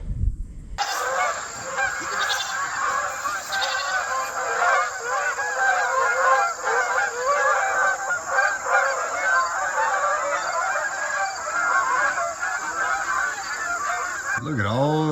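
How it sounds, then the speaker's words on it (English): Outdoor fowl honk loudly and continuously in a dense, overlapping chorus near a JLG 80 HX boom lift under repair, with a brief mechanical sound at the very end. "Look at all those chickens."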